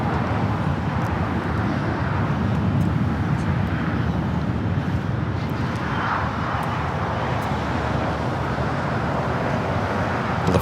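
Airliner inbound from Vienna, Austria, taking off from the south side of Los Angeles airport, a continuous broad jet roar heard from a distance, steady throughout with wind and faint background traffic.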